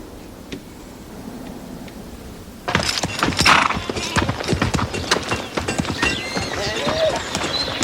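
Horse hooves clip-clop on hard ground in a medieval setting, starting abruptly after a quiet stretch and continuing as a steady, close, fairly loud rhythm of sharp strikes.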